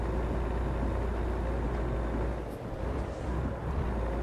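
Inside the cab of an International Prostar truck in Euro Truck Simulator 2, the engine gives a continuous low, rumbling drone that dips briefly midway and then returns, with no talk.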